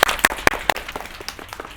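Audience clapping at an Independence Day children's performance, a short burst of loud, fairly close applause whose sharp claps fade into a thinner patter, with faint voices in the room.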